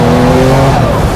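A Gunther Werks Porsche 911 Turbo with a 4-litre six-cylinder making over 750 horsepower drives hard on a rough road, its loud close engine roar droning continuously over tyre and road noise.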